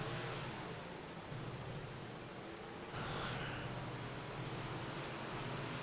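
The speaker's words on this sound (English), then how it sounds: "The car right underneath us right now is Tom Ostendorf" A Big Block Modified race car roars around a dirt track at Huset's, heard as a broad, steady engine drone from a distance, rising slightly in intensity partway through, with no speech.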